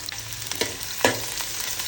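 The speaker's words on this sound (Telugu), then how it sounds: "ఆయిల్ వేడైన తర్వాత సన్నగా కట్ చేసి పెట్టుకున్న ఉల్లిపాయలు వేసుకోవాలి." Thinly sliced onions and green chilies fry in hot oil with a steady, bright sizzle, broken by a few sharp stirring scrapes and pops.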